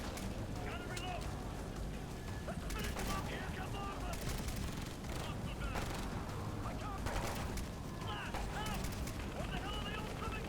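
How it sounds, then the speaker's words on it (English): Rapid automatic gunfire from an AK-74U submachine gun in the video game Ghost Recon: Future Soldier, bursts crackling continuously over a dense, loud battle din with other shots mixed in. "I don't know why I'm using this SMG, but I do love the AK-74U."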